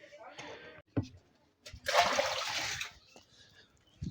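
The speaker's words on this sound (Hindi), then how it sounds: "भाई साहब तो अब धोया जाएगा टेबल" Water splashes and pours over a table being washed during outdoor cleaning, one loud burst of roughly a second between short knocks, with a voice talking around it.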